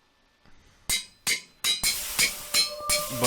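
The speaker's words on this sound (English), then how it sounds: "So, I forgot how loud the hammer is." A hammer in the FTB Infi-Tech 2 Minecraft modpack strikes sharply and repeatedly, about seven bright metallic clanks in a steady rhythm, loud and close, each with a brief ringing tail.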